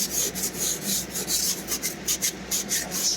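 An ice scraper scrapes frost from the inside of a van window on a very cold night in a parking lot. Close, rapid back-and-forth strokes rasp in a quick rhythm, with no talking.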